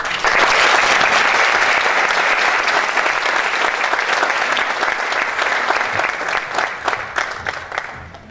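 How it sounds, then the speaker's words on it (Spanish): Strong applause from a conference audience at a human rights event, dense continuous clapping that holds steady for several seconds before gradually thinning out, no voices over it. "agradecemos la presencia de nuestro presidium y los despedimos con un fuerte aplauso, por favor"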